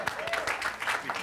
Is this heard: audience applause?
yes